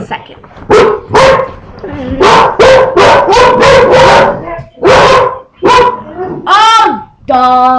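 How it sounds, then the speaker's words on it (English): Several dogs bark in loud, repeated bursts indoors, with a whine or yip near the end, interrupting someone talking during a crochet lesson. "Oh, dogs, hush. I'm sorry, my dogs don't quite understand the thing."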